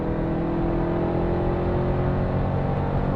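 A 2021 Dodge Durango SRT Hellcat at full throttle on a race track, its supercharged engine a loud, steady, close roar sustained throughout without a break.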